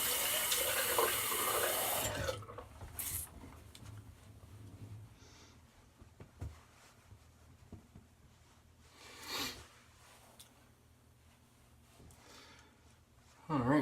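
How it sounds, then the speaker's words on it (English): A tap gushes cold water loudly into a sink for a rinse during a shave. The flow cuts off after about two seconds, leaving quieter splashes and handling noises. "So we'll go right into the cold water rinse and then the post."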